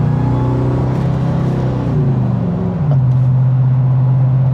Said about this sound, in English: Oh, blower whine.